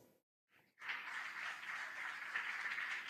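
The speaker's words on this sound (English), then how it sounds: "Let's give them another round of applause." After a brief near-silence, an audience at a school quiz contest between two basic schools breaks into applause for the contestants. The clapping is sustained and fairly quiet, heard from a distance across the room.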